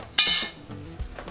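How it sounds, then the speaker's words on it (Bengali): A metal knife scrapes around the edge of a pudding inside a hot pressure cooker pan, giving a short bright clink and scrape followed by faint softer scraping. "এবার একটা চাকু দিয়ে ঠিক এভাবে"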